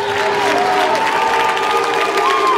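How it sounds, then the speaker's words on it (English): A football crowd in the stands cheers and applauds, a dense, loud, continuous roar of many voices heard from above, with a few whistle-like tones rising through it. "As we hear the crowd beneath us from the North starting to come to life a little bit"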